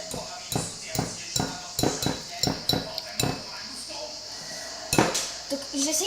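A metal whisk knocked repeatedly against a mixing bowl to shake off chocolate cake batter, a run of sharp clinking taps in quick succession, then a pause and a few more knocks, close and clear.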